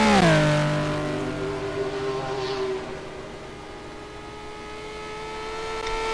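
A Ferrari 458 GT2 race car engine in a racing video game at the Nordschleife during qualifying. It drops from a high rev to a steady, droning mid-pitched note and holds at a constant hum, close and alone.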